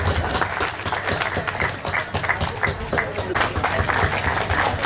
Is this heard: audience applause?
yes